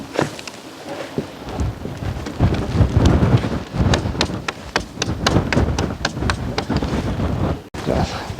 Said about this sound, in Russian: сейчас ветрено, не знаю, насколько это передает камера. Еще моросит, представляете, холод.